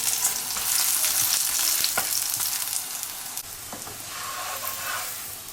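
Oil flatbread frying in a pan of plenty of hot oil hisses in a loud, continuous sizzle, with a few clicks and a brief shuffle as the bread is turned over, no one speaking.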